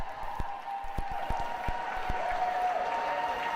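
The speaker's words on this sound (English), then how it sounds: "Great to see the excitement from the crowd as Aaron finished up." A swimming meet crowd applauding after a 25 free race finishes, a steady spread of clapping with occasional louder claps over a reverberant indoor pool ambience.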